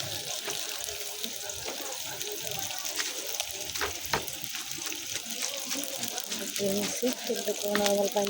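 Food is rinsed under running water with a steady, close rush and splash, with occasional knocks and clatter in a kitchen sink. Faint voices may be present under the water.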